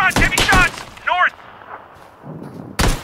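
Bursts of gunfire from PlayerUnknown's Battlegrounds, several loud close shots in quick succession near the start, a lone shot in the middle and another at the end, with a player shouting between them.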